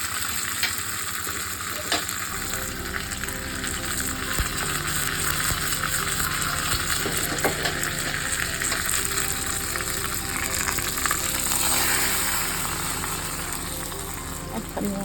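A tempering mixture sizzles as it is tipped into a pot of tomato rasam, a steady close frying hiss with stirring scrapes and clinks running the whole way through.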